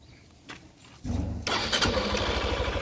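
A motorcycle brought in for a battery charge cranks briefly, then its engine catches and runs at a rough, loud idle close by.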